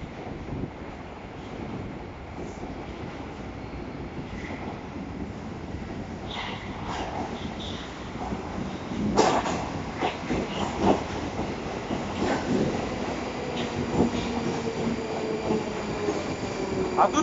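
A Moscow metro train on the Butovskaya line rolls past between Bittsevsky Park and Buninskaya Alley with a steady rumble, rising clatter and faint wheel squeals, the noise building toward the end amid light wind on the mic.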